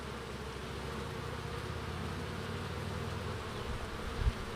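Honeybees flying in and out of a hive make a steady, close, continuous buzzing drone with no talking over it.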